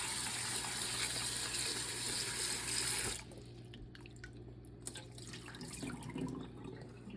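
Tap water runs steadily into a sink over boiled eggs in a bowl for about three seconds, then stops, leaving quieter sloshing and shaking of the eggs and water.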